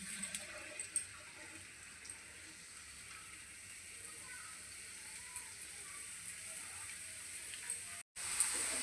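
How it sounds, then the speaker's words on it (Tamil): Somas frying in hot oil, a steady soft sizzle and bubbling that carries on faintly throughout, with a brief cut near the end. "இப்போ எண்ணெயில் போடலாங்க."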